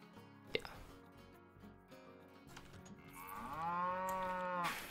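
A cow moo sound effect in Planet Coaster, triggered when placing the Cosmic Cow shop: one long, loud moo rising and sustaining over the last two seconds, preceded by a few soft clicks and faint game ambience.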